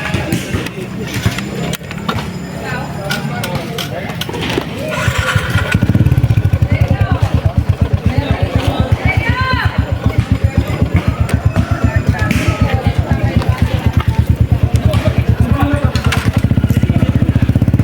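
A motorcycle on a ride runs as a steady, close, pulsing engine drone that grows louder after about five seconds and keeps going. Voices talk over it at times.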